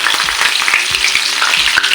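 Curry leaves frying in hot oil for chicken pakoda, a loud, steady, close crackling sizzle with dense popping spatters, heard alone without any voice.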